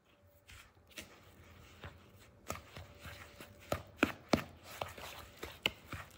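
Cornbread batter with buttermilk and oil being stirred in a bowl, irregular soft taps and knocks of the spoon against the bowl, close and quiet, picking up toward the end.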